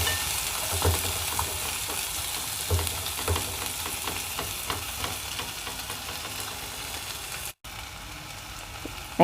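Small bitter gourd and onions fry together in a pan for a poriyal, giving a steady crackling sizzle with occasional stirring scrapes and no voices.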